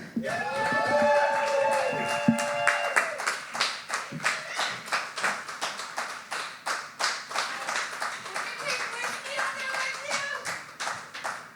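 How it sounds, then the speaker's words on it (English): Applause for a poet at a poetry slam, starting with brief speech and feedback-tinged tones, then settling into fewer, distinct claps with a loose rhythm, fairly close. "Give a big round of applause for Cameron."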